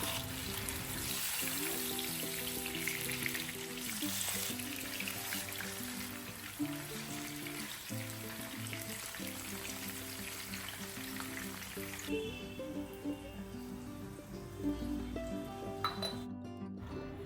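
Chillies fry in hot oil with a steady crackling sizzle, and pots and utensils clink now and then nearby.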